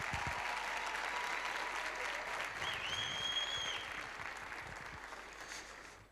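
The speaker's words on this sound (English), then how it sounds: "One more time, ladies and gentlemen, a round of applause for Neo Matebe." An audience at a youth empowerment week event applauds a speaker with sustained, even clapping that fades slightly toward the end, a faint whistle rising above it.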